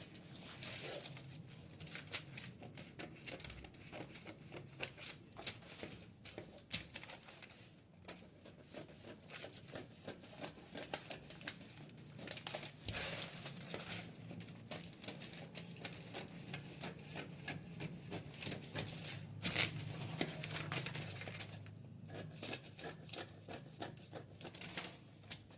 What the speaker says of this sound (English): I'll cut out my front pattern before we go ahead and draft our back pattern.